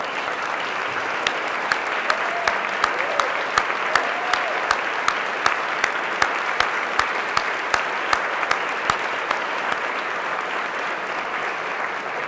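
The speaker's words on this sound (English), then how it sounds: "could we give them a round of applause." An audience at a human trafficking report event applauds ambassadors standing in recognition, steady loud clapping from a large crowd sustained throughout, with sharp individual claps poking out above the wash.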